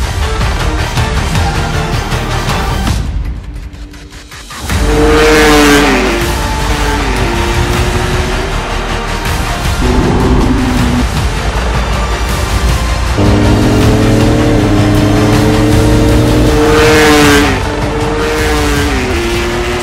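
A Honda racing-spec motorcycle built to world-class competition specs screams around a race track, its high-revving engine rising and falling through gear changes, loud and close, with a brief quiet dip early on.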